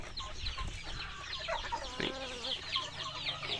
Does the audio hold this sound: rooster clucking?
yes